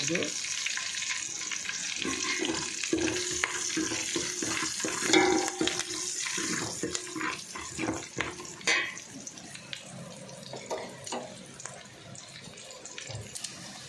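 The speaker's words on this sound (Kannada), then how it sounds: "ಇದಕ್ಕೆ ಕರಿಬೇವು ಒಗ್ಗರಣೆಗೆ ಹಾಕ್ತಾಯಿದ್ದೀನಿ" Crackling, spattering sizzle of curry leaves dropped into hot oil for tempering, irregular pops over a steady frying hiss, easing off toward the end.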